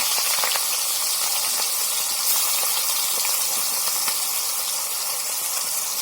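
Shrimp frying in oil with salt and turmeric, a loud, continuous close sizzle and hiss with scattered tiny crackles throughout, no voices.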